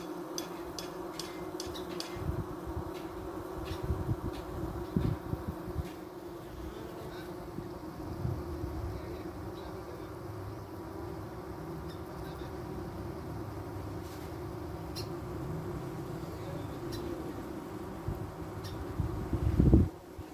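Honeybees fanning their wings deep inside a hot hive, a continuous low droning buzz that holds steady throughout, with faint clicks and a louder thump near the end.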